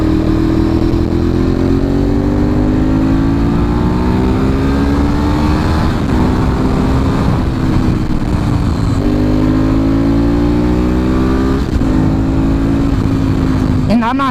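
A Ducati 848 sport motorcycle engine pulls hard under acceleration, its loud, steady roar climbing in pitch with brief dips at gear changes, heard close up throughout.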